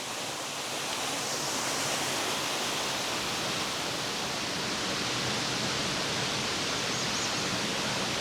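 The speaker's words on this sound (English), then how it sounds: "The water crashes without end," Dark Hollow Falls, a waterfall spilling over ancient greenstone rock, roars in a steady, dense wash of crashing water that stays loud and unbroken throughout, with no voices.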